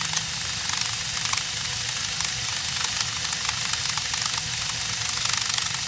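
A Lego motor swings a pendulum-like arm that pounds pretzels in a homemade chipper, giving a dense, rapid, continuous mechanical clatter and knocking, loud and close with no talking.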